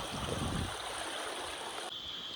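Sokuleru river water running down from the hills along a ghat road near Maredumilli, a steady broadband rushing flow heard close and continuous with no talk.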